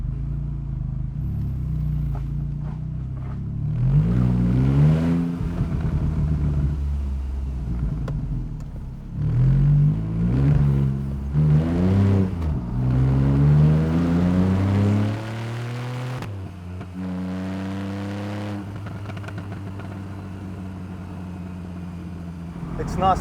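A Porsche 911 Carrera 4S (991.1) with a naturally aspirated engine and wider rear accelerates in repeated loud rising sweeps with gear changes, then settles into a steady cruising drone. A voice talks over it.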